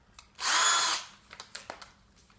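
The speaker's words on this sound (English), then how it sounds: "continue to drive those holes down through that plywood you just installed" A power drill fitted with a 3/32-inch bit bores through installed plywood in one loud, steady half-second whir, followed by a few faint clicks and taps as it stops.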